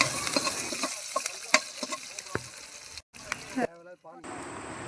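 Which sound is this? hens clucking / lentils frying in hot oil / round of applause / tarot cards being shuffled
lentils frying in hot oil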